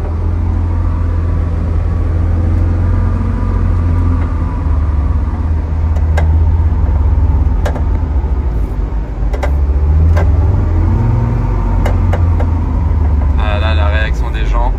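A Mansory-modified Ferrari F8 turbo engine rumbles low and steady, its pitch rising and falling as it revs, with voices talking over it.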